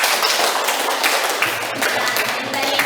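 Students clapping together in a classroom, a steady dense patter of many hands that carries on through the whole stretch, with no talking over it.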